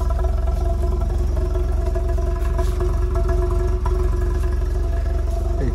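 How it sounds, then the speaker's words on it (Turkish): Tofaş car engine and exhaust heard from inside with the window open, a steady, loud mid-pitched drone with light clatter that holds throughout. "Egzoz sesi güzel gelsin diye."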